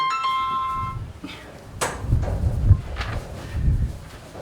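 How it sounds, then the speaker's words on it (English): A mobile phone goes off indoors during a podcast recording, giving a short melodic electronic ringtone for about a second, then it stops and is followed by shuffling, handling noises and movement close by. "that was my phone going off"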